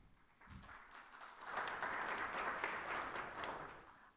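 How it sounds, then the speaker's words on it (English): Audience applause at a corporate analyst meeting, a broad wash of clapping that swells after a quieter start and holds steady at moderate volume before easing off. "Let's take a moment to applaud these milestones."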